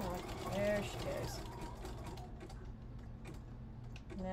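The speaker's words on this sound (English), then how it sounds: "Now I'm going to back stitch." A home sewing machine back stitches fabric while a scarf is turned into pants, its needle mechanism whirring and clicking nearby with a few sharper ticks, running steadily at moderate volume before easing off.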